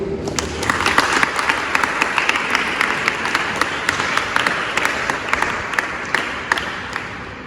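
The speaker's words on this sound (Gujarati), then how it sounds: "આપણે એમનું તાળીઓથી સ્વાગત કરીએ." Sustained applause from a crowd welcoming a guest at a Special Olympics Bharat Gujarat state badminton event in Anand Vidyanagar, with dense, steady clapping and sharp individual claps carrying through the whole stretch.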